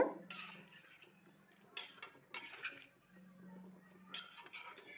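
A spoon scrapes and clinks against a pan while stirring a winter mixed vegetable curry, giving several sharp metallic strikes spread between quieter stirring, with low voices faintly underneath.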